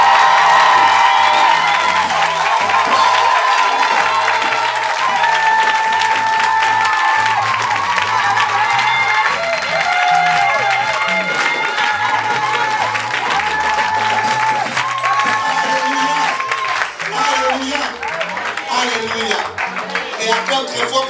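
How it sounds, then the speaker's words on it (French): A church congregation cheers and applauds loudly and continuously, claps blending with whoops and shouts, with music and a voice carrying over the crowd throughout. "Acclame très fort pour Jésus-Christ de Nazareth."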